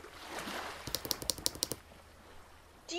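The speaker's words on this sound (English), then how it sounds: "It's the sound of the ghost crabs." Ghost crabs on a sea turtle nesting beach give a quick run of about eight sharp clicking clatters in an even rhythm, close and distinct over faint surf hiss, followed by quiet.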